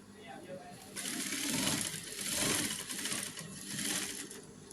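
A sewing machine stitching a pillowcase with a continuous run of thread, its close whirring buzz rising and falling in bursts after a quieter start.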